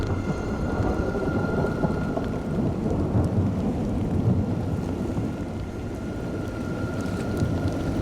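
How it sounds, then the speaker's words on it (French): Steady, heavy rain with low rumbling thunder falls on burned scrubland in the Bouches-du-Rhône in Provence, with a continuous wash of drops throughout. "La pluie qui s'abat maintenant sur les brûlis commence à entraîner avec elle les cendres et les débris végétaux"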